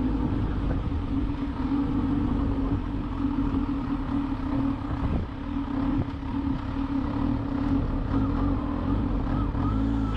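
Kawasaki ZH2 motorcycle with a large Akrapovič exhaust, a steady loud engine drone holding a low throbbing note throughout, heard close and continuous with faint wind noise.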